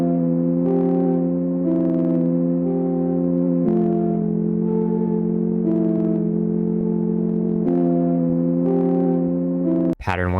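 Ambient indie instrumental loop with a double stacked chord progression and two high melody notes on top, steady sustained chords changing every few seconds, alone and moderately loud, ending in a brief click.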